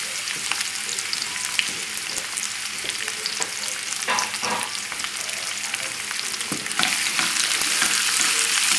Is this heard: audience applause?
no